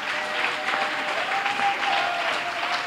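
A church congregation at a Sunday service claps steadily and warmly together to acclaim the Lord, a sustained, fairly close round of applause with no one speaking over it.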